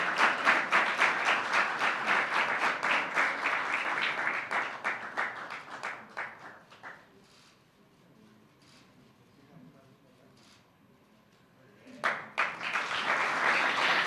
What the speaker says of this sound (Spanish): Damos un fuerte aplauso a Neisida Gómez, medalla de oro en alterofilia, 76 kilogramos.